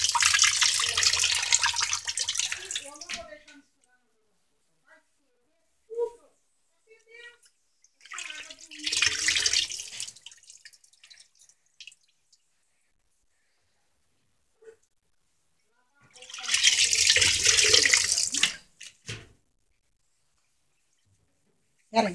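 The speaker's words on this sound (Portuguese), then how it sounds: "Eu vou pôr água aqui pra soltar e vou sair." Tap water runs to rinse stained laundry, a t-shirt and a pillow cover, in three separate loud gushes, each a couple of seconds long, with quiet gaps between.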